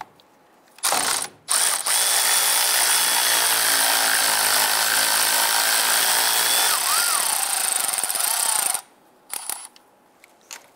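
A ratchet on a 13 mm socket clicks in a long, fast, steady run while loosening a starter nut on a 2002-2008 Dodge Ram 1500, close and loud, followed by a few short clicks.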